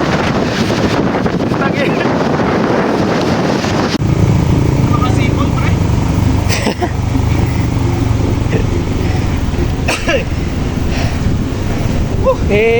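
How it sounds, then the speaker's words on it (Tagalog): Strong stormy wind buffets the microphone at the seaside, with surf rumbling underneath; loud, continuous gusting roar throughout, while people talk over it. "may bagyo rito sa sungay. Lakas ng hangin."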